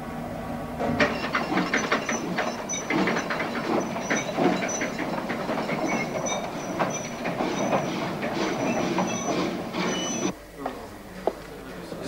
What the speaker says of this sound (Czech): To jenom vykolejil nákladní vlak.